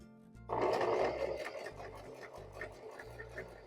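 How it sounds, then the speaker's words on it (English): Domestic sewing machine running a quarter-inch seam on quilt pieces, a steady mechanical whir with rhythmic needle clatter starting after a brief pause and continuing close and fairly loud to the end. "we're going to sew this right hand side"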